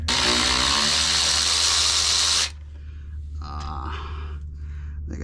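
A power tool, likely an impact wrench, zips the bolts off a Jeep's front driveshaft with one loud, continuous high-pitched whir for about two and a half seconds, then stops, leaving quiet workshop background.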